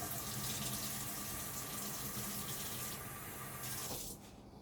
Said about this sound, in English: Just dump the water in.